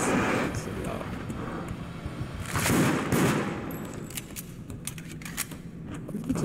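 Gunfire in the video game Deceit, a series of quick sharp bursts and bangs over a dense, noisy game background.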